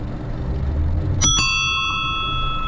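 A quick double ring from the bell of a 1984 Raleigh Superbe bicycle, close and clear, its metallic tone ringing on and fading over low rolling ride noise.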